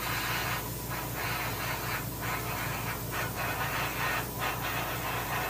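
An airbrush sprays paint onto the fins of a largemouth bass for taxidermy, giving a steady, close hiss that swells and eases in short passes.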